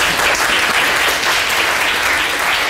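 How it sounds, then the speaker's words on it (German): Loud, dense applause from a conference audience after a talk at FOSSGIS 2024, continuous clapping throughout without pause. "Nochmal finalen Applaus,"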